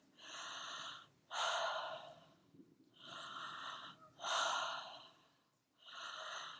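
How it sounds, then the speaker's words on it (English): Rhythmic mouth breathing in a breathwork exercise, a steady cycle of breathy inhales and exhales with almost no pause between them, close and fairly soft, heard alone without talk. "So it's a continuous breath."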